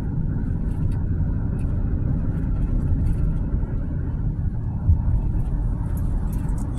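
A car driving through a neighbourhood: a loud, steady low rumble of engine and road noise heard from inside, continuous and unbroken with no clear speech.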